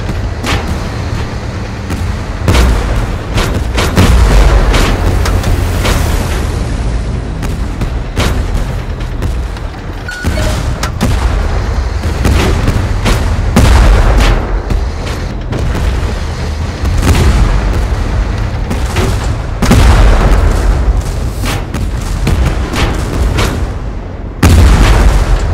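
Continuous artillery bombardment in the tank game Tank Force, with loud, dense booms and explosions hitting one after another, and close bursts layered over distant rumbling for a sustained barrage.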